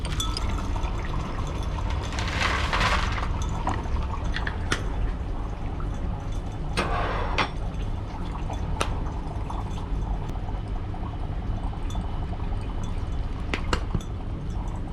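Dry ice dropped into beakers of cold and hot water, giving a steady bubbling, gurgling fizz that runs throughout, with a few sharp clinks and splashes standing out above the continuous churning.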